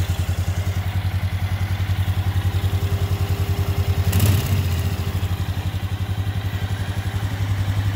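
A Polaris Sportsman ATV engine runs steadily in gear with its tires spinning, giving a loud, close, rhythmic mid-pitched drone and a brief clatter partway through, no speech.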